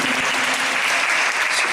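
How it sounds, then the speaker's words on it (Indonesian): Audience at a parish Easter recollection gathering clapping, a dense, even burst of applause from many people, loud and close, lasting under two seconds without pause. "Ya, tepuk tangan dulu."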